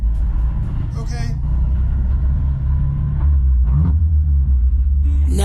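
BMW drift car on a race track, a steady low engine rumble running close and loud throughout, with brief bursts of louder noise; people talk over it.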